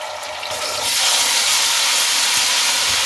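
Garlic ginger paste sizzles loudly in hot oil with browned onions for beef biryani, a steady broadband frying hiss that swells after a moment and holds on without a break.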